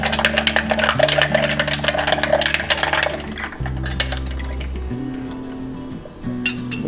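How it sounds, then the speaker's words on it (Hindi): A spoon stirs sandalwood sharbat in a glass, giving quick, bright clinks and light swishing over steady background music. The clinking is busiest at first and thins out later. "इसको मिक्स करते हैं।"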